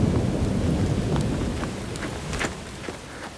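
Heavy rain in a city at night hisses steadily with a deep rumble of thunder underneath and a few sharper crackles, loud and close throughout.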